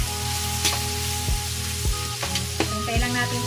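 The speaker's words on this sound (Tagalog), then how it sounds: "Lutuin muna natin ang ating bacon." Bacon fries in a pan for carbonara, giving a close, steady crackling sizzle with a few scraping stirs of a utensil throughout.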